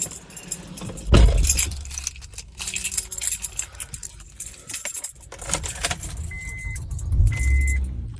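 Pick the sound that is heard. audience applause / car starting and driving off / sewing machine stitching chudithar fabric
car starting and driving off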